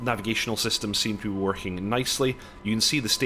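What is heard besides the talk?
No everyday noises stand out.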